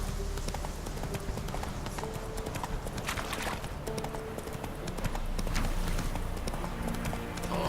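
Roach, the horse in The Witcher 3 video game, galloping with rapid, steady hoofbeats that continue throughout at a fairly even, moderate level with no talking.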